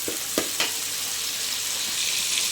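Garlic and other ingredients sizzle while sautéing in a pan, a steady close frying hiss with a couple of quick stirring scrapes near the start.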